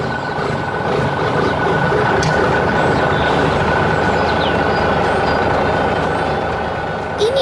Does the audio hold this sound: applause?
no